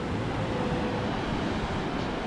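Strong sea waves on a rainy-season beach outing, a loud continuous roar of surf mixed with wind buffeting the microphone, steady and unbroken with no voices.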